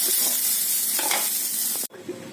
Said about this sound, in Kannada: ಅದರ ಪೀಸುಗಳೆಲ್ಲ ಚೆನ್ನಾಗಿ ಫ್ರೈ ಆಗಿರಬೇಕು